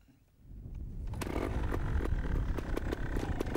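A trials motorcycle engine at a teen trials competition starts after a brief quiet moment, then settles into a rough, clattering idle with sharp, irregular popping bursts from close by.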